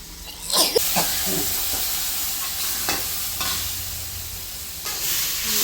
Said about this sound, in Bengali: মশলাটা কষাইলাম সুন্দর করে